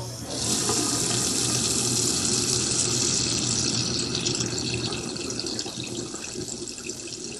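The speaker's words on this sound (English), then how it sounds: "I'm talking while the water is still on in the restroom" A restroom tap runs steadily into a sink, a continuous close hiss and splash of water that eases slightly toward the end.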